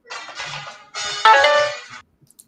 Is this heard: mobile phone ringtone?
yes